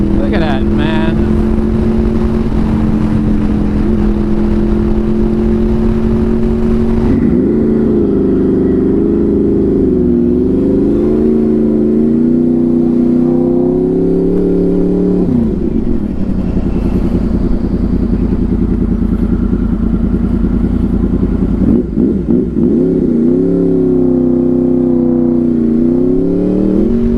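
A Honda VFR800 motorcycle engine droning steadily close up while riding through traffic, pitch rising and falling with repeated throttle changes and shifts, constant wind rush underneath, with no pauses.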